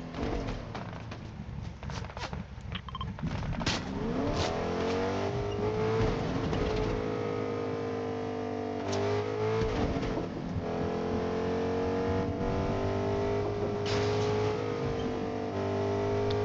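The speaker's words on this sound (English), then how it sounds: "Yeah, we can drive this car." A car in the video game Fortnite drives along with a steady engine drone whose pitch rises and shifts as it accelerates, staying loud and close for the whole stretch, with brief sharp game effects over it.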